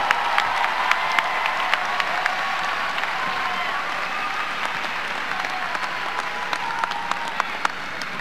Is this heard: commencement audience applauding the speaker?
yes